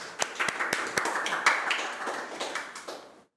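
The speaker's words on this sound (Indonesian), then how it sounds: "Oke, tepuk tangan dulu dong." A small group claps during a polytechnic tourism-program talk session. The handclaps are distinct and close, forming a fairly regular run that fades out after about three seconds.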